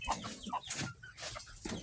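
Native chickens cluck in short bursts, several close birds calling over a faint background hum, with no talking.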